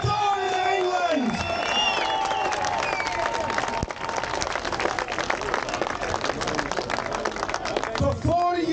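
A protest crowd claps and cheers outdoors, dense applause running throughout with scattered whoops and shouts, plus a brief shouted voice near the start and end.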